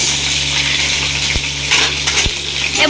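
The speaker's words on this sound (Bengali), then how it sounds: "আলু কষাচ্ছি" Potatoes sautéing in a pan, a steady close sizzle broken by two sharp scrapes or knocks of a utensil against the pan.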